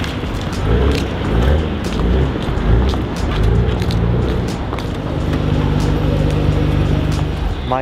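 A Nissan Skyline R34 GT-R drives with a steady, loud engine drone and low rumble that holds for several seconds without pause.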